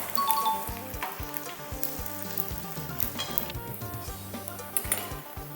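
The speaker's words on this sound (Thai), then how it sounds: "เราก็จะมาทอดจนกว่าสีเนี่ย มันก็จะเหลืองทองอย่างนี้" Rice frying in hot oil until golden, a dense continuous sizzle and crackle up close, with occasional clinks and scrapes of a utensil against the pan.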